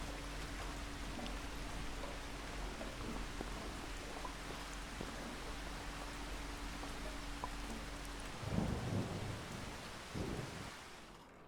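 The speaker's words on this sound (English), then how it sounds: "it's already 6 o'clock and it's raining" Steady rain pours with rumbling thunder in the video game Farming Simulator 25, a dense continuous wash with low rolls of thunder near the end before it fades out.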